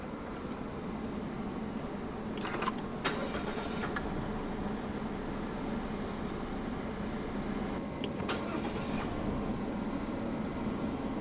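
A 2015 Mazda 2 sedan's 1.5 SkyActiv-G engine turns over and starts by push button, then settles into a steady idle, with a couple of short mechanical clicks near the start.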